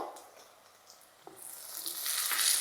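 Chopped tomatoes go into softened onions frying in a pan for chicken pulao, the faint sizzle swelling into a louder, steady hiss near the end, with no talking.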